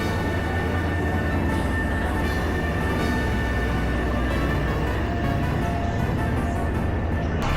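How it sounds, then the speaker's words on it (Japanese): A passenger train in Vietnam rolls toward Tuy Hoa, producing a steady loud rumble of wheels and carriage noise from inside the car throughout, with no talking. "ベトナムで初めての電車に乗ってトゥイホーへ。"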